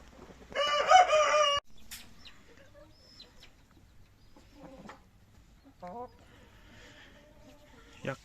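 A black rooster crows loudly once, a long harsh call, followed by quieter scattered clucks and bird chatter in a calm chicken coop on an autumn evening.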